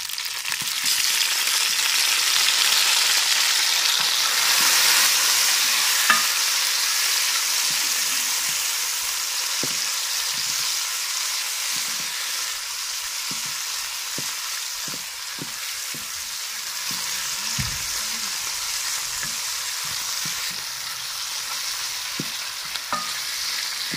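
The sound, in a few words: onions with tomatoes and green chilies frying in a pan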